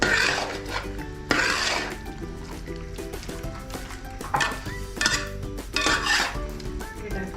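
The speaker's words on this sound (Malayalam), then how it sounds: "നന്നായിട്ട് ഇളക്കി കൊടുക്കാം" Chicken kurma with ground coconut paste stirred in a pan, a spoon scraping and clinking against the metal in repeated close strokes over a low simmer, no talk.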